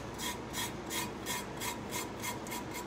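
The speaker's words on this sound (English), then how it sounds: "you can now rub off your glitter." Rhythmic rubbing strokes scrub glitter off a Halloween travel mug, soft and close, repeating steadily about every half second with no talk.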